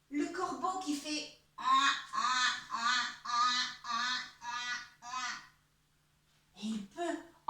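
A voice imitates a crow cawing with a run of about eight loud, nasal, harmonic caws in steady rhythm, then a short pause and two more caws.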